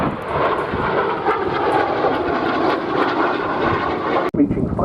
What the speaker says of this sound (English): in comes the Sabre.